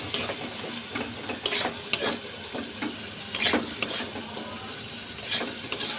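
Spice paste frying with dried loitta fish (Bombay duck) and a little water in a pan, heard as a soft sizzle broken by repeated scraping stirs of a spoon, fairly quiet and close.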